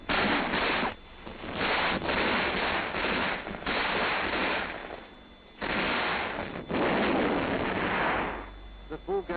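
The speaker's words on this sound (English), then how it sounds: "Each soldier begins firing at a maximum effective rate" Soldiers in a rifle squad fire rifles and supporting weapons in defense, dense bursts of rapid gunfire and booming blasts in loud waves separated by brief lulls, with narration running over the firing.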